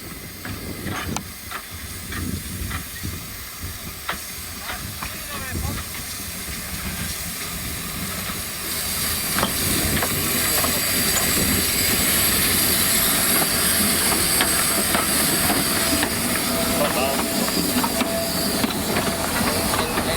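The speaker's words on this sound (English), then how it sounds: "When the line was clear, the scheduled passenger train departed." A scheduled steam passenger train departs on a Slovak line, a steady loud hiss of steam building and holding with rail rumble and mechanical clanks throughout, continuous and fairly close.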